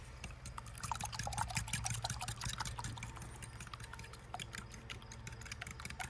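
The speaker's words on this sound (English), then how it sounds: "So we'll just add a bit of cream now." Cream pours steadily into an egg wash being mixed for crappie fish batter, a continuous close trickle and splash of liquid lasting several seconds without talk.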